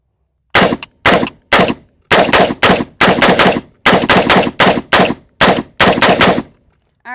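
Rapid semi-automatic gunfire from an AR-15 style carbine, a Daniel Defense MK18 or Brigade BM15, cracking out in close, loud bursts of two to four shots with short gaps, about a dozen rounds in all and no talking.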